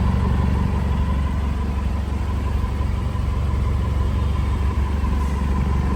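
Isuzu D-Max pickup engine idling steadily at close range, a loud, even low rumble with constant vibration and no pauses or talk.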